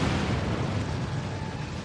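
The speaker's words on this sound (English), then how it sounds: "Detonating charges" Charges detonate in the Star Trek Online game, producing a loud sustained explosive roar with a deep rumbling low end that stays steady throughout.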